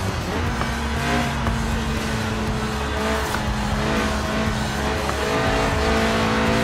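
A Lotus Elise Sport 190 with a 1.8-litre engine revving to 8,000 RPM in Forza Horizon 4, a steady droning engine note with shifting harmonics and faint tire noise, held at an even loudness throughout.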